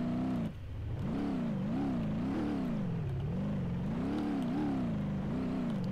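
A car engine in the BeamNG Drive video game hums and revs up and down in steady waves as the vehicle climbs a hill, loud and close throughout after a brief dip at the start, with no talking.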